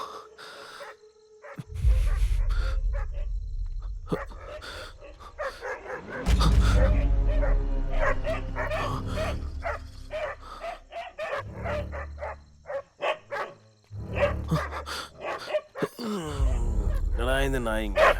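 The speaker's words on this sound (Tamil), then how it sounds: "இந்த நாய்ங்க" Several dogs bark and yip in bursts, with whimpers between them, mixed with a dramatic score and some talk in a dubbed Tamil film scene.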